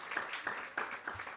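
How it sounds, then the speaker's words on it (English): Applause from an audience at the opening of a policy forum event, a moderate steady patter of clapping with slight periodic swells, heard on its own at a modest level. "Please give us a big round of applause to begin today's event in good spirits."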